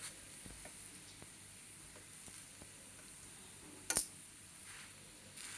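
Ragi roti roasting with oil on a pan, a faint steady sizzle with a few soft taps and one brief sharp clink.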